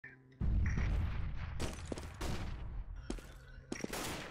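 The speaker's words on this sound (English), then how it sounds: "I'm throwing a grenade!" Grenade blast and gunfire on the Nuke map in a Counter-Strike match, a loud boom opening a stretch of scattered rapid shots and bursts that echo around the area, with faint game effects between them.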